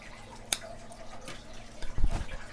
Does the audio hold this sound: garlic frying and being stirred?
no